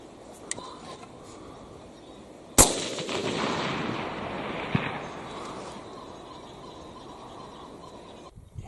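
A single sharp rifle gunshot while hunting, loud and close, cracking out and rolling away in a long outdoor echo over quiet background, with a faint later knock.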